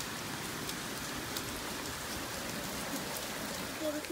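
Steady rain pattering on a surface, a constant wash of drops with no voices, close and even throughout.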